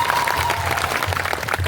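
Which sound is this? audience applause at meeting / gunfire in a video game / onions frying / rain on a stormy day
audience applause at meeting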